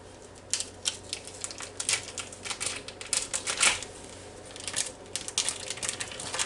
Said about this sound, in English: I'm just going to cut around this wrapper here.